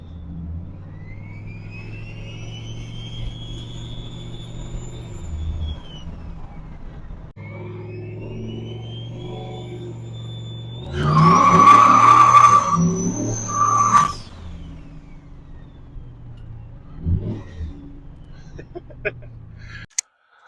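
A 1999–2002 Chevrolet Silverado pickup with an LS engine drives off with a steady low engine drone and rising whine. A loud burst of tire squeal hits midway, then the drive settles and ends abruptly.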